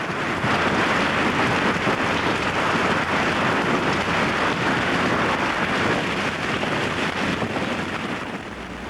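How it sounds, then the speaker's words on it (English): A hailstorm near Abilene, Texas makes a dense, continuous roar of hailstones pounding the ground and surfaces, loud and steady throughout, with no voices. "this dramatic footage captured by storm chasers near Abilene, Texas, illustrates the destructive power of hailstones."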